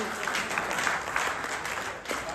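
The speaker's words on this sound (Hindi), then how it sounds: "बजाओ ताली आप भी तो थोड़ा बहुत आप" An audience claps at a Hindi humour poetry recital, a kavi sammelan in Sikar, giving a continuous, fairly quiet spread of applause heard from a distance with no clear voices on top.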